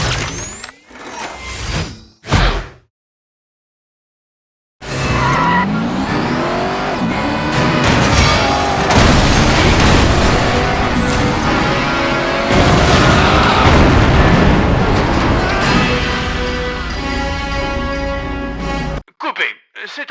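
Car engine roars, tire skids and booming volcanic eruption explosions in the Xbox 360 stunt-driving game Stuntman, a dense loud continuous mix after a brief pause, with a voice speaking at the start.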